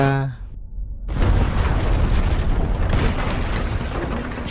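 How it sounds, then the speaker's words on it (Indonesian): A garbage truck crashes into a house with a sudden heavy crash, followed by a long roaring rumble of debris, loud and close. "sebuah truk sampah mendobrak rumah Michael disusul dengan padamnya penerangan."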